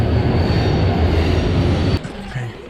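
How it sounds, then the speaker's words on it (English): Train interior on a Polish rail journey, a loud steady rumble of wheels and carriage with a brief break and softer rolling at the end. "I'm on the train now"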